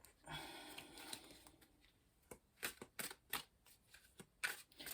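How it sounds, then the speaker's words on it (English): Tarot cards being shuffled by hand, quiet soft riffles and slides at first, then a handful of sharper snapping flicks and taps toward the end, close and faint with no talking. "I like to give these a really good shuffle in front of the camera just for you guys."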